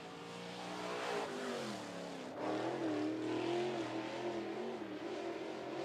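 Crate late model race car running a qualifying lap on a speedway, engine roaring steadily and loudly with rising and falling pitch as it circles the track, no voices over it.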